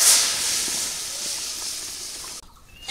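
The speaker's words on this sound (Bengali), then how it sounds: "ফোড়ন হয়ে গেছে, এখন আমি ডাল দিয়ে দেই" Lentils tipped into hot oil tempered with chopped garlic and onion in a village kitchen, giving a loud, steady sizzling hiss that fades slightly and then cuts off abruptly near the end.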